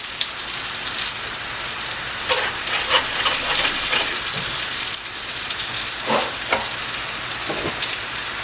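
Zucchini cakes fry in hot oil in a pan with a steady, dense crackling sizzle throughout, and a few louder pops and spatters stand out near the end.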